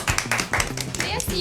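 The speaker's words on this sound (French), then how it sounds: "On applaudit, Giovanni." Audience applause bursts out at a French talk show while a host keeps talking over the short, choppy clapping.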